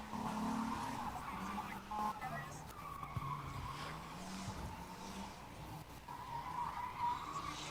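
A Nissan 240SX S13 drift car slides at a track, tires squealing in long wavering wails under an engine drone, heard from a distance with someone talking over it.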